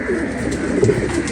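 A large female racing pigeon coos close to the microphone, a low, throaty, continuous rolling call with no talk over it.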